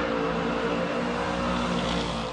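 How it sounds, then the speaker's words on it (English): Muscle cars rev and roar at a drag strip, a loud, continuous engine drone with throaty harmonic rumble that swells and holds without interruption, close and powerful. "a whole bunch of fans congregate at this drag strip to enjoy the sights, the smells, the sounds of these muscle cars"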